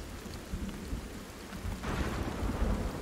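Steady rain hisses in the video game Sons of the Forest, then a deep roll of thunder swells in and builds louder, rumbling over the downpour near the end with no voices.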